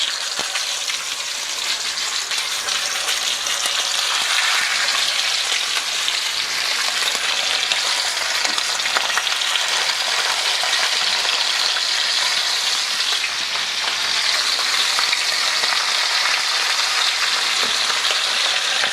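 Short ribs, fatty meaty side down, sear in hot oil in a pan, giving a loud, steady, dense sizzle that holds without a break throughout.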